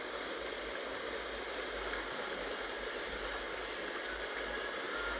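Steady broadband roar of the Rhine Falls waterfall at Schaffhausen, Switzerland, with rushing water filling the whole stretch at a constant, dense level and no voices over it.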